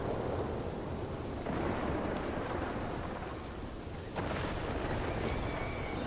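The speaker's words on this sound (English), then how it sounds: "God damn, it's raining." Steady, moderately loud rainfall with low rumbling thunder throughout a stormy scene in the WildRP western video game, with swells of rain noise and no talking.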